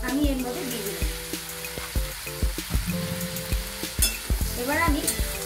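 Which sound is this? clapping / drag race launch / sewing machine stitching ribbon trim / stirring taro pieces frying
stirring taro pieces frying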